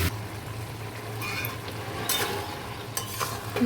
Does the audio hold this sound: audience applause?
no